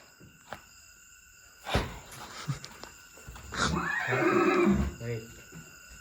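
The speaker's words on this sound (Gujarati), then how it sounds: "ઘોડો" A horse neighs with a long, loud whinny rising and falling, preceded by a few sharp knocks and followed by people talking nearby.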